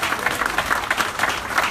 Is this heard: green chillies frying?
no